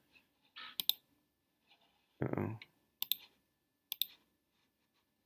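Mouse clicks on a ghoul enemy in a Scratch boss game: a few crisp, close clicks spaced out over several seconds, in a quiet room, with a short spoken exclamation between them.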